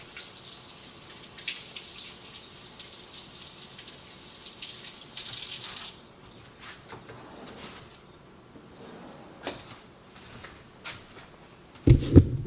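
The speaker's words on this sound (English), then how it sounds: "rinse my hands off" A kitchen tap runs while hands are rinsed under it, a steady close hiss of water with small splashes and shifts in the flow, ending with a few louder knocks.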